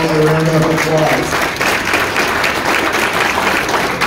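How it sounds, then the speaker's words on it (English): Audience at a 2022 candidate forum for a state house district and county offices applauds, a dense, loud burst of clapping from a full room that carries on steadily, with a voice over it at the start. "please give them all a round of applause."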